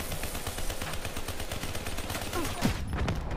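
Steady automatic fire from a DLC weapon in a shooter game, a continuous rattle of rounds at moderate level with a few heavier impacts near the end.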